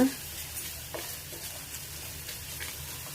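A tamarind, jaggery and puliyogare powder mixture being stirred in a pan, soft scraping strokes and faint sizzling at a low level, with a few spoon knocks spaced out over a quiet background.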